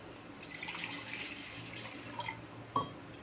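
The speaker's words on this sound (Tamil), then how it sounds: "இப்போ தண்ணி லைட்டாக விட்டுருவோம்." Soft water trickles and splashes into a pot of tamarind curry, quiet and steady, with a brief louder splash near the end.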